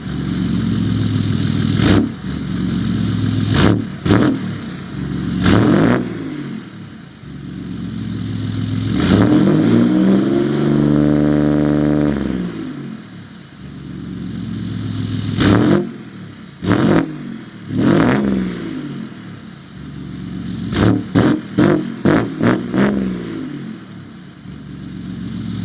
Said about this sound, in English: Now I'll set the camera down and do a few revs.